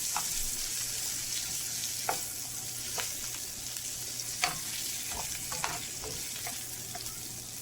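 Lamb steak frying in a pan, a steady sizzle throughout with occasional sharper pops and crackles.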